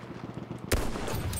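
A sudden loud gunshot bursts out in Battlefield 1 after a quiet stretch, followed by a dense rattle of continued fire from close range.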